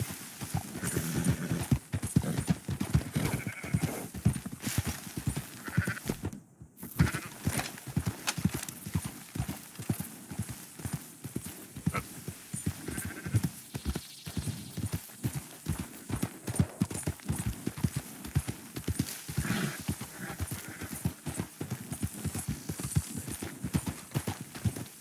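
Horses' hooves clip-clop steadily while riding in Red Dead Redemption 2, a fast continuous drumming of hoofbeats up close with an occasional snort, briefly dropping out once before resuming.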